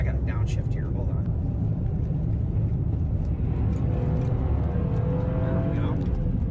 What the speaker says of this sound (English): Oh, I'm in fourth gear. I got a downshift here.